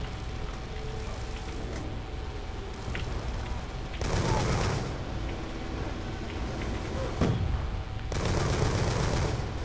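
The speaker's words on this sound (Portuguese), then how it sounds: "Não foi minha intenção atirar em você." Bursts of rapid gunfire in Call of Duty: Black Ops II erupt in two loud clusters amid a busy background of clanks and rumble, with a few sharper single shots between them.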